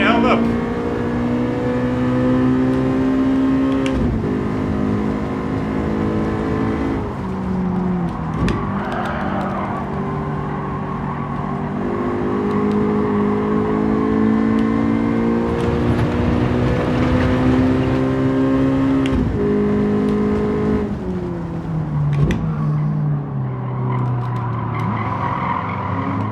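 Race car engine in Gran Turismo 7, loud and continuous as it revs through the gears, with pitch rising and dropping at each shift and tires squealing in the corners, with someone talking over it.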